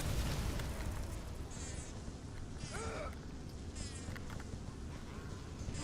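Bees buzz in a steady, dense drone in the BioShock video game, a continuous swarm noise filling the background at moderate level with no talking.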